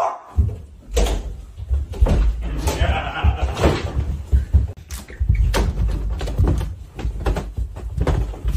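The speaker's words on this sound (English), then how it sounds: "close the door next time?" A door is pushed shut in a home with a few sharp knocks and thuds scattered among scuffs and movement, while people talk loudly close by.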